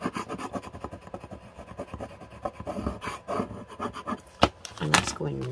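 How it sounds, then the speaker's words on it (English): Paper on a ring-bound journal being burnished, close rubbing strokes in an irregular rhythm with scratchy friction, ending in a few sharper knocks. "Again, I'm just burnishing it."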